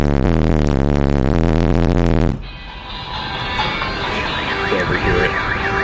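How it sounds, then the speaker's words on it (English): A Pontiac Sunfire car alarm goes off in a parking lot, sounded by a loud bass blast from a nearby car stereo, then rising and falling electronic siren tones wail at a distance across the way. "This alarm will go off."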